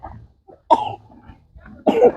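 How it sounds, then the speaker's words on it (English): A child coughs close by, two or three harsh bursts separated by brief pauses, with no talking. "My son is there coughing, I think, because of the wind."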